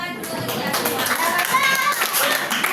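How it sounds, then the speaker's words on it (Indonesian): Schoolchildren in a classroom clap their hands together, a busy patter of claps mixed with children's chatter and voices throughout. "Tepuk tangan dulu untuk kita semua."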